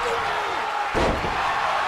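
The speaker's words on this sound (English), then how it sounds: "Blanchard now picking up Mantell, slamming him back first in the turnbuckles." Single heavy slam of a wrestler thrown back-first into the turnbuckles in a WWE 2K wrestling game, a short thud cutting through steady crowd noise.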